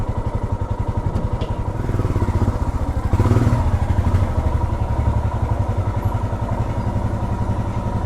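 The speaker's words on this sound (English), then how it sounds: "I'm going to pull the decibel killer out and do the same loop, see how it sounds." A 2023 Royal Enfield Himalayan 411 with a Red Rooster performance exhaust and its decibel killer removed, throbbing steadily up close with a deep pulsing thump that swells briefly as the engine revs, then settles back to a loping idle.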